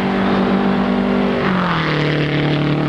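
A race car at the 1960 Indy 500 accelerating down the front stretch at near-record speed, a loud sustained engine roar whose pitch shifts and drops as it passes close by.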